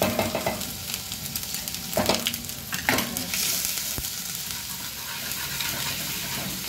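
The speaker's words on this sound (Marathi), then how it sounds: "चांगलं फ्राय करून घेऊया" Chilli, ginger and garlic fry in hot oil in a pan with a steady sizzle. A spoon scrapes and knocks against the metal in short bursts while the food is stirred, close and fairly loud, with no talking.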